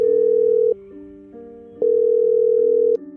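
Landline telephone receiver picked up in a living room, giving a loud, close steady dial tone that breaks off briefly twice and resumes, with no voices.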